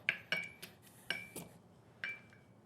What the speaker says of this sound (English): now I'm going to muddle it down, break it out, and I'm going to get my tomato juice